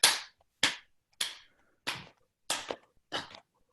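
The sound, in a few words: hand clapping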